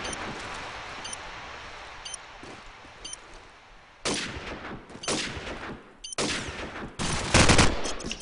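Bursts of automatic gunfire and single shots ring out in a multiplayer shooter match on the mp_cluster map, quiet scattered shots at first, then several loud, close sustained volleys.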